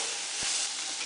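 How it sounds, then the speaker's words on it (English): Beef and turmeric get stirred in a hot pot, a steady close sizzle with one brief scraping knock partway through. "You want to stir this to get that turmeric all over the beef."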